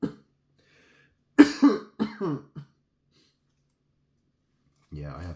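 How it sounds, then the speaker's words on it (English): A cigarette smoker coughs in a few close, harsh bursts with a short pause between them, then falls quiet before a brief throat sound at the end. "it makes me cough"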